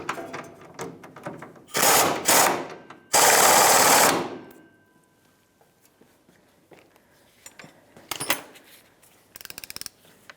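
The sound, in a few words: 18mm socket snugging rear shock mount bolt on Ford F-150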